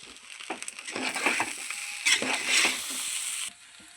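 Rice being stirred and fried in a pan, with close scraping and crunchy stirring over a steady sizzle that cuts off abruptly near the end.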